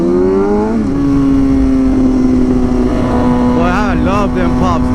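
Sportbike exhaust from a group ride of Kawasaki ZX6R, Honda CBR600RR, Kawasaki Z900 and Yamaha R1 machines, a steady loud engine drone that rises, then a burst of crackling pops and revs near the end, with voices talking over it.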